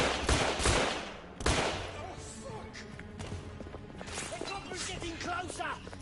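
Gunfire in The Order: 1886 opens with heavy bursts of shots and a sharp blast, then a dense, noisy exchange continues under a voice speaking over the fight.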